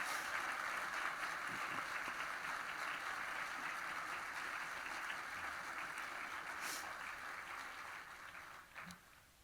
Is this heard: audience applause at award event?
yes